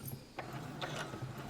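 A Brother computerized sewing machine stitches a fabric seam, giving a faint, close series of quick mechanical clicks and whirs from the needle mechanism.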